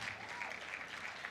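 Audience applause at a tech conference in Port Harcourt, a steady, continuous wash of clapping from a crowd, fairly faint and distant.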